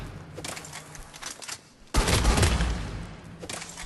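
Raider shotgun firing rapidly in Mass Effect 3, a dense burst of overlapping blasts that starts quietly and then turns loud and sustained for about two seconds with a brief lull and another burst at the end.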